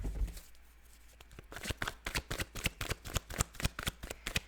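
Tarot cards riffle and slap together in a close, quick rhythmic shuffle, a dense run of crisp papery snaps that builds after a soft start and carries on steadily with no talking.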